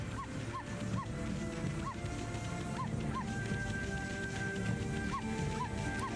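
Amaterasu, the wolf in the game Okami, gives a series of short, evenly spaced barks timed to the music, sounding over a continuous game soundtrack.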